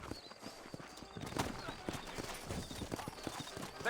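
Irregular hoof clops from horses moving at a walk in the video game Red Dead Redemption, fairly close, with a snort or whinny and background ambience mixed in.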